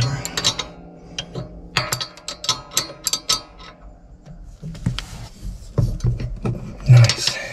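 A ratchet wrench cranks down a nut on a Case IH 75C tractor, its close, sharp clicking coming in quick repeated bursts with brief pauses between strokes.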